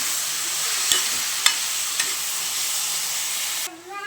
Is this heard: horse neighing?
no